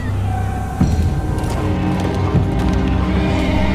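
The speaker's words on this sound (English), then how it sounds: "That poor horse." Horse in The Walking Dead video game season 3, with clip-clopping hooves and a whinny amid game sound effects and music, moderately loud.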